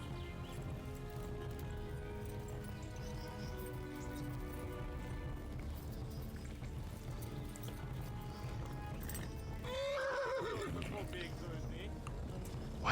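Horses whinnying and drumming hooves in the video game Kingdom Come: Deliverance, with a constant background rumble and a sharp neigh rising near the end; someone speaks over much of it.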